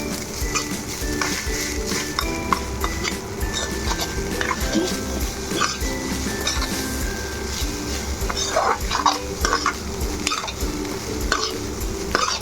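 Egg fried rice with coriander being stirred in a pan: continuous sizzling and scraping, with a whining tone running underneath, close and fairly loud, no voices.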